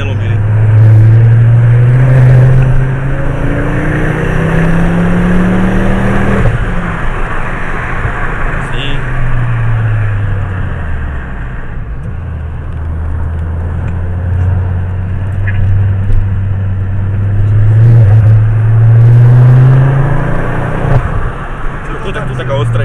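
An Audi R8 with an Akrapovič exhaust, its engine droning loud and close as the revs rise and fall in long sweeps, with faint voices talking beneath the engine.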